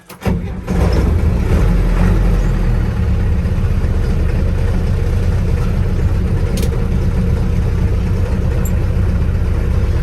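A 1969 Ford F100 pickup's heavy, truck-type engine cranks briefly, catches, then settles into a loud, steady low rumbling idle that continues without pause.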